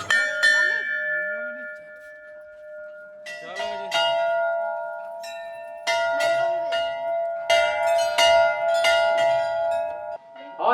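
A Hindu temple bell rings out repeatedly in clear, resonant strikes with long sustained tones, loud and close, with a few faint voices in the background.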